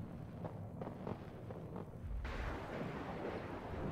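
Distant artillery and gunfire in the modern-war strategy game WARNO, a rumbling barrage of low booms rolling together into a sustained roar, muffled and moderately loud.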